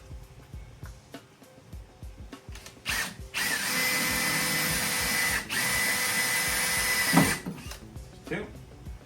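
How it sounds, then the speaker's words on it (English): A few clicks and short drill bursts lead into a sustained, close whine of a drill boring a pilot hole through metal for a golf cart for several seconds, then winding down to handling noises. "So I'm gonna just drill a little pilot hole."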